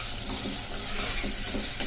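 Tomato and roasted gram sauté in a hot pan for a Chettinad mutton kulambu masala, giving a continuous soft sizzle and hiss with faint stirring scrapes, steady and close, with no voices.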